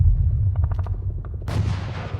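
A burst of gunfire: a few rapid, close shots followed by a sharper, louder blast that trails off, with no voices.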